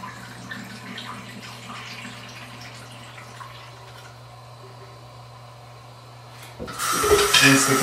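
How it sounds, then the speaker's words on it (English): Tap water suddenly gushes into a container and funnel after film developing with a Cinestill C41 kit, a loud splashing rush starting near the end after a quiet stretch of faint handling noises and steady hum. "Rinse the container, set this aside, and rinse the funnel."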